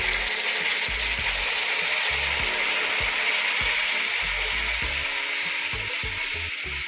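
Crushed peanuts cook in a pot with heated palm oil, giving a steady, loud sizzle with a rhythmic series of low scraping stirs underneath.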